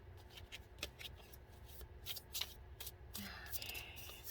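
Tarot cards are shuffled and dealt by hand at close range, a soft papery flutter of riffles and slaps with a few cards spilling out, quiet and continuous.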